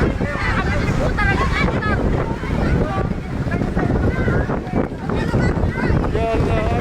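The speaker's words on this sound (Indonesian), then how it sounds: "angin di pengungsian sangat kencang" Strong gusting wind battering earthquake refugee camp tents in West Sulawesi, a loud continuous roar with flapping, while people talk and call out over it.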